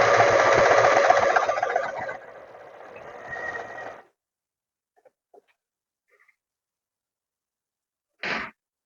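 A sewing machine stitches trouser fabric for about four seconds, a dense, steady mechanical run that eases off partway before stopping, then near silence with a few faint clicks and a short burst near the end.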